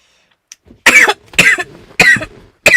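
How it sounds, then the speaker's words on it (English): A person coughs in a series of four harsh, close bursts spaced about half a second apart, each a rough, chesty hack with a short gap between. "sorry, I'm coughing up a storm here."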